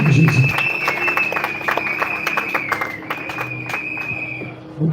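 Brisk applause at a civil wedding ceremony, steady clapping throughout with a sustained high whistle or ululation cutting over it, fairly loud and close, with some voices beneath.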